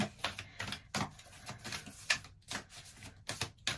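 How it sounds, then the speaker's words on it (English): Continuous papery shuffling and riffling of tarot cards, close up, with rapid irregular flicks and taps throughout. "As you can see, I shuffle these a little bit differently."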